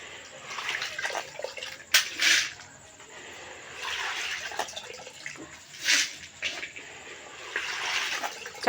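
Water poured by hand in a home setting, splashing in a few bursts with quieter stretches between, fairly close and moderate in level, with no one speaking over it.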